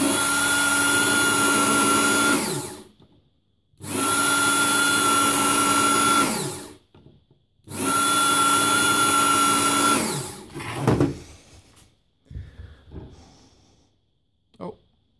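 Work Sharp knife and tool sharpener running in three steady high-pitched whirring bursts of about three seconds each, separated by short pauses, followed by quieter handling noises.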